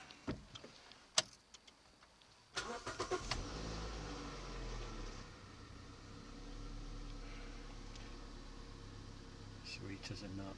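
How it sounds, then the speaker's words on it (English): A Toyota Yaris engine cranks briefly after an oil change, then catches and settles into a steady low idle, heard close with some faint handling noise before it starts. "let's just quickly see if the engine turns over okay"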